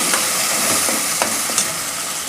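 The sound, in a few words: paste being fried in oil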